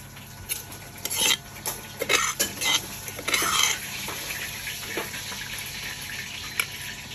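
Water is poured while making a Thai pounded melon salad, splashing in short bursts mixed with clinks of utensils and dishes, fairly close and moderately loud, then settling to a faint background.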